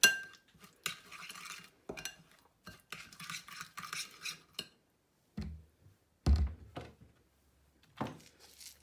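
A spoon clinks and scrapes against a bowl while chicken shawarma marinade with vegetable oil is stirred, giving quiet irregular taps with brief pauses and a couple of louder knocks.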